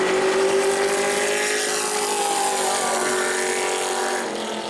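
Pro truck number 59 races through qualifying at New Smyrna. The engine note is loud and sustained, with a pitch that sweeps as the truck passes and then fades slightly.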